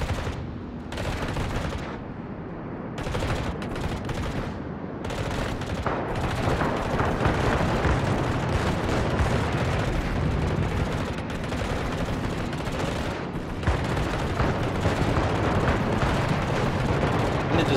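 Ship gunfire from the naval video game Minekaze, a dense, continuous barrage of booming shots and blasts that stays loud throughout, with almost no pauses and little talk.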